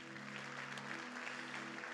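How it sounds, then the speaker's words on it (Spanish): A church congregation claps during a sermon, a brief, steady patter of many hands at moderate distance, with a faint sustained tone humming underneath. "Denle un fuerte aplauso, Señor."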